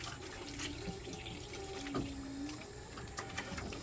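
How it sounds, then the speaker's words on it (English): Water flowing from a garden hose into an RV grey tank on a hot August day in Georgia: a steady, faint hiss and gurgle of running water with a low background hum. "I got the water hose on."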